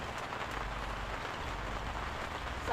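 Rain falls steadily at a fishing spot by a pond, making a dense, even hiss of drops on surfaces throughout, with a slight thicker patch of drumming at the very end and no voices.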